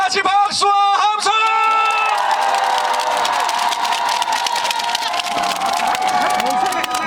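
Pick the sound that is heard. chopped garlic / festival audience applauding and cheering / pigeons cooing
festival audience applauding and cheering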